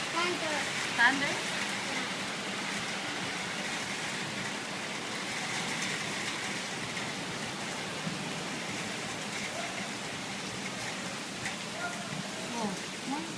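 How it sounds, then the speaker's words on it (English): Steady rain falls on surfaces during a night storm in Dubai, a continuous hiss with faint scattered drips and a few soft knocks. "Raining."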